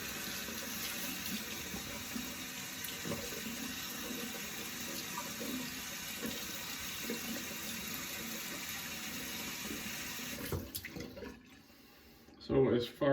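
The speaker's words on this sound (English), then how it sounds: "soak my brush in some hot water. Let that run." Hot water runs from a tap into a sink to soak a shaving brush, a steady close splashing stream that cuts off near the end, followed by a few handling sounds.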